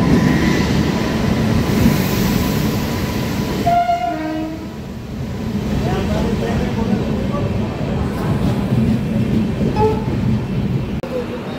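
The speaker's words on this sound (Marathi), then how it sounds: "मग आमची गाडी निकळली आहे नंदुरबार." A passenger train leaving a station on a journey from Navapur toward Nepal rumbles loudly and steadily up close, with a short horn note and clattering wheels as it gets moving.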